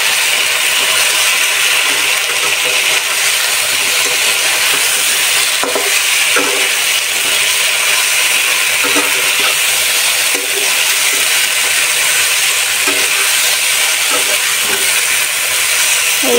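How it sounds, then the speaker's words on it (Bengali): Fried raw banana koftas added to a Bengali curry where the oil has separated, giving a loud, constant hissing sizzle with occasional soft bubbling pops, no talking. "দিয়ে দিয়েছি ভাজা কোপ্তাগুলো"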